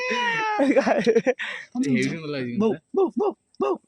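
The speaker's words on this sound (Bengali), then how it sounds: "কুকুর দেখে ম্যাও ডাকছে" A cat in a village lane meows at a dog in several short, close, wavering calls, with people talking and laughing over it.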